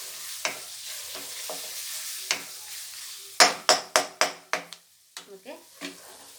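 Ginger-garlic masala paste being stirred and fried in a pan for chicken curry, with a steady sizzle under sharp, repeated scraping clicks of a spoon against the pan, including a quick run of five strokes near the middle.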